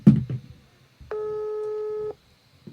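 A single steady telephone tone sounds for about a second, placed at random to someone in the caller's contacts, with brief talk and a click before and after it.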